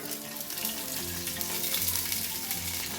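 Cloves, cinnamon pieces, cardamom, sliced onion and green chillies sizzling in hot oil in a pan, a continuous close crackle and hiss, with a faint steady hum running underneath.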